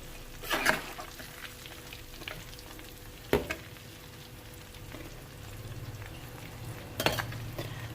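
Chicken pieces deep frying in oil in a kadhai, a low steady sizzle with a few sharp clatters and stirring bursts, no talking.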